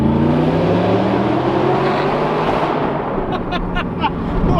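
A straight-piped Audi R8 engine roars loudly and steadily with a deep, throaty exhaust, holding high revs before easing off slightly near the end.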